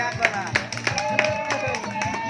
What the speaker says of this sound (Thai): มาถ่ายรูปหน่อยถ่ายรูปหน่อยเอาก็เสียงปรบมือนะครับ